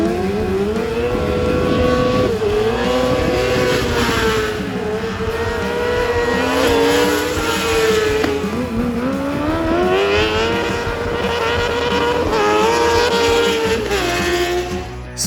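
High-pitched drift motorcycle engines scream and rev continuously on a race track at the High Side Ride Festival 2024, pitch rising and falling as the bikes accelerate and slide.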